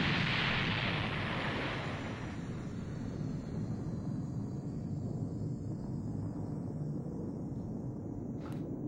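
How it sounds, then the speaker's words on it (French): Artillery fire pounds a castle in an animated cartoon episode, a sustained loud rumbling barrage with a heavy blast at the start, then a steady low roar continuing throughout with no talk. "Il tire sur son château, les mecs là."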